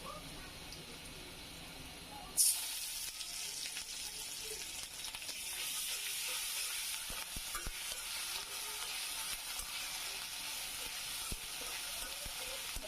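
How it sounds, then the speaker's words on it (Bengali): Ginger and garlic frying in a pan for a shrimp curry with potato and pointed gourd, a steady bright sizzle that jumps louder a couple of seconds in as they hit the oil, with stirring scrapes throughout. "আদা রসুনটা একটু ভেজে নিচ্ছি"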